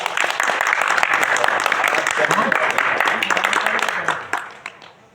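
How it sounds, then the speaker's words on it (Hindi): An audience at a healthy-living lecture bursts into loud, close applause for a participant's answer, dense clapping mixed with voices that fades out toward the end. "इनके लिए ताली बजाइए।"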